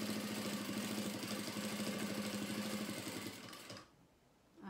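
A sewing machine stitches a straight seam in a steady, fast mechanical whir with rhythmic needle chatter, running loud and close for about three and a half seconds before stopping to near silence.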